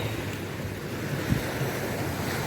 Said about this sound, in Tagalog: Sobrang lakas ng alon ngayon, no?